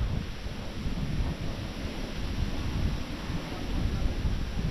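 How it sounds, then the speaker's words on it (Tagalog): Strong outdoor wind buffets the microphone in a continuous low roar, loud and steady throughout with no clear voices. "Lakas ng hangin, sarap."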